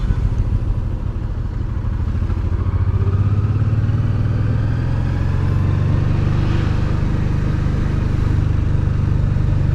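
Cars in traffic pass close by while a motorcycle filters between them, under a loud, steady engine and road drone that holds for the whole stretch.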